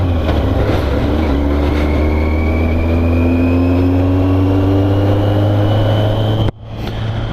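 Yamaha XJ 650 Turbo motorcycle engine idling just after starting, a loud, steady low drone that stays close and even, then drops sharply near the end and recovers. No voices are heard.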